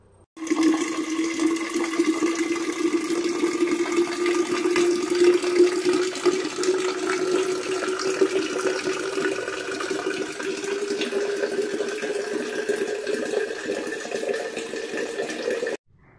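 Steady rush of water filling an Aquaguard purifier at home, continuous and close with a sustained tonal hum and hiss that holds for the full stretch before cutting off.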